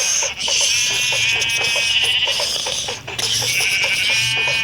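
Sheep in the Minecraft video game bleat in repeated wavering cries over a continuous layer of background game sound, loud and close, with no talking.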